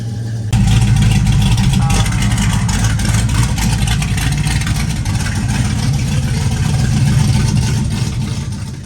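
A Chevelle engine rumbling through open exhaust cutouts, a loud, deep, steady low-end drone that kicks in abruptly and holds near the listener, with slight swells in intensity.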